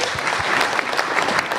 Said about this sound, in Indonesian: Tepuk tangan Bapak Ibu.